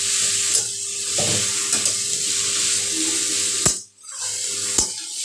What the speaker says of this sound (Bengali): এটাও একটু ভাজা ভাজা হবে।